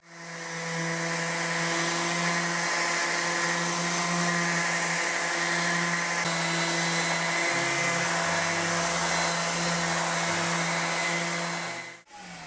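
A loud, steady motorized whine drones continuously for several seconds, a vacuum running while wood is sanded with 80-grit sandpaper, cutting off abruptly near the end.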